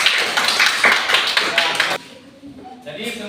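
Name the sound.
classroom applause for group C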